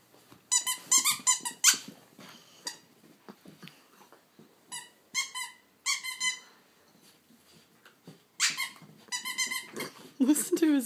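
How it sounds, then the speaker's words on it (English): A dog chomps on a squeaky toy, sending out repeated sharp, high squeaks in irregular bursts close by, with teeth clacking and soft breathing between them. "I don't want him to eat the squeaker."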